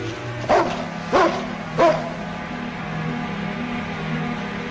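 A dog barks three times in quick succession, sharp evenly spaced barks close by, over a steady low background hum inside a building.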